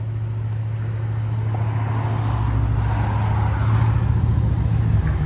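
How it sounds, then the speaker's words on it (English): A 2025 Whipple-supercharged Ford F-150 with a 5.0 V8, long-tube headers, catless, Borla S-type resonators and a Black Widow muffler rumbles with a deep, steady low exhaust drone that builds slightly in intensity, heard close without talk. "he's gonna give us hopefully a nice pull"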